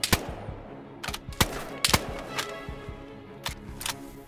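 Gunfire in the DayZ video game: scattered sharp shots, some near and some more distant, in irregular clusters over ambient outdoor game noise.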